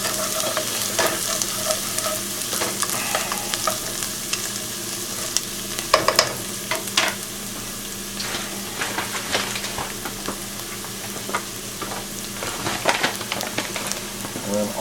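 Buffalo chicken soup ingredients seasoned with salt and pepper, stirred in a pot: a constant sizzle with scraping spoon strokes and occasional louder clatters, close and steady, with no voice.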